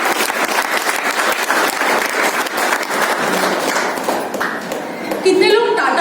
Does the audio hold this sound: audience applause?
yes